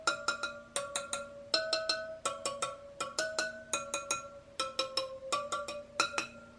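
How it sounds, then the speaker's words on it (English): Spokes of a Sur Ron supermoto electric motorcycle wheel tapped one after another with a metal tool to check tightness, giving rapid bright metallic pings in short irregular bursts, close and clear with no talking. "I'm just gonna go through each spoke one by one and see if there's any dead spokes."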